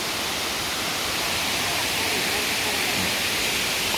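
Erawan waterfall in Kanchanaburi, third tier, roars as a steady, dense wash of falling water that fills the whole stretch evenly without a break.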